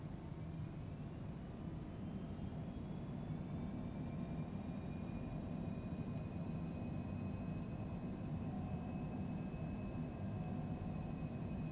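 A Cessna Citation jet in Microsoft Flight Simulator 2020 spools up for takeoff, a steady broadband engine roar with a rising whine running unbroken and fairly loud throughout.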